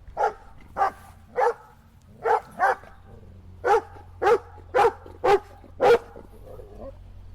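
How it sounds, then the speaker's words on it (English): A Great Pyrenees–Border Collie mix dog barks close by, about eleven loud, sharp woofs in uneven bursts, some paired, with short quiet gaps over a low indoor hum. "I have to quiet my dog."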